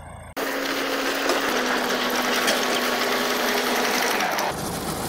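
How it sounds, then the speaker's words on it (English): A bulldozer slowly pushing a rock, its engine and hydraulics cutting in abruptly with a loud, steady mechanical whine and roar that holds for about four seconds before easing off. "pushing rocks with the dozer"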